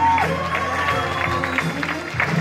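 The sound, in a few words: audience applauding at a hypnosis show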